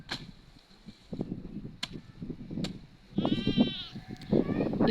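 Cows on an African village farm call out while waiting to be fed leaves, a single drawn-out call rising midway amid nearby shuffling, thumps and rustling.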